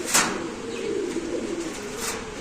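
A pigeon at a crowded pigeon market gives a low, drawn-out coo, heard near and moderately loud over a murmuring background.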